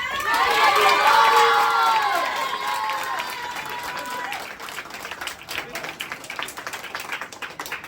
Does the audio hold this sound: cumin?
no